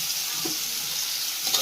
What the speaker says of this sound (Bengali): তেলটা গরম হয়ে গেছে, আলুগুলো দিয়ে দেবো।